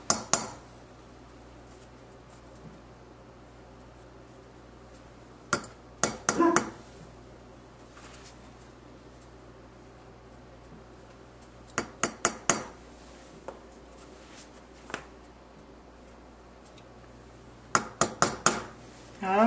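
Four tablespoons of plain Hershey's cocoa spooned into a pan for chocolate cake, with short clusters of sharp metal clinks and taps of spoon on pan separated by quiet pauses.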